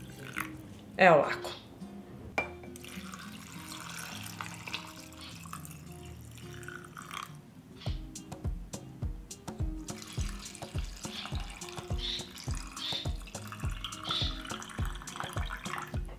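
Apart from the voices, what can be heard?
warm water poured into glass jars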